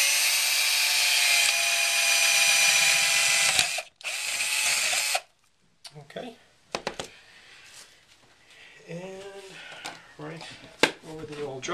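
An electric drill boring a hole into the side of a coconut, a loud steady high whine for several seconds, a brief stop, another burst, then quieter handling clatter as a person talks.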